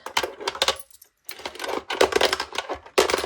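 Coins clatter and jingle as they are dropped into a TARDIS-shaped cash tin, several close metallic bursts with a brief gap partway through, no talking.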